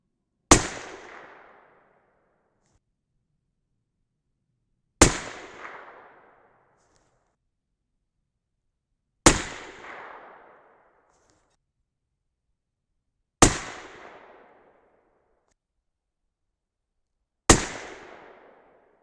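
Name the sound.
6.5 Creedmoor rifle shots firing 43.1 grain H4350 loads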